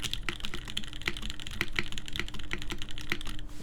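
Rapid, crisp key presses on a Merisi 500c mechanical keyboard, close up, with an even clicking rhythm throughout and no other sound.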